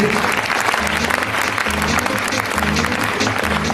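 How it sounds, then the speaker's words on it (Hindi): Steady, dense applause from a crowd, loud and continuous throughout with no pauses. "आपकी जोरदार तालियों में"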